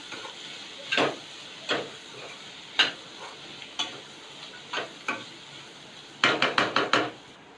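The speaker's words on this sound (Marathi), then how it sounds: "ओला खोबरा आपण चांगला परतून घेतलेला आहे" Quiet pan of fresh grated coconut being stir-fried, with intermittent scraping strokes of a spatula spaced about a second apart, then a quick burst of several strokes near the end.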